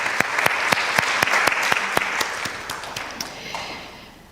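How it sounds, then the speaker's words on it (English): Audience applause for musicians, with a few distinct, sharp near claps in a steady rhythm over a softer crowd of clapping that thins and fades out by the end. "So let's give another round of applause to our musicians."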